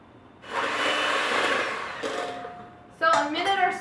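A blender whirs steadily for about two seconds as it spins a chocolate avocado mousse, then winds down, followed by a person speaking briefly.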